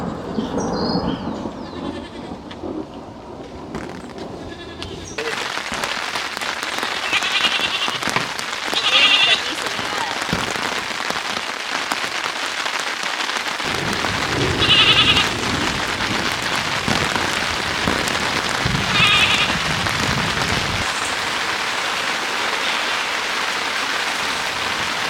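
Goats bleat several times, spaced apart, through a steady patter of rain during a small storm, with faint voices mixed in at times.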